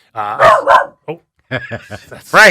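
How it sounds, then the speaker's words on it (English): A dog barks at passing traffic, several loud close yips and barks in uneven bursts, mixed with someone speaking nearby. "That's my dog who decided to come with me today and is deciding to bark at the traffic."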